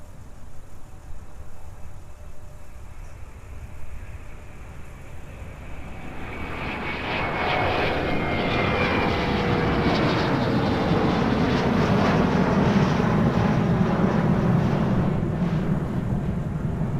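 An airliner taking off at MSP airport on a muggy winter day: the distant engine hum swells into a loud, sustained jet roar that holds steady and close, with no voices over it.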